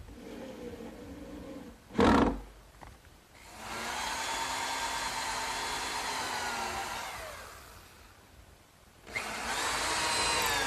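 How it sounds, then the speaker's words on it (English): A power drill drives screws into a plywood backsplash on a gardener's workbench, with a short sharp burst followed by a long steady whirring run and another whir at the end. "I'm putting 4 screws in through the back"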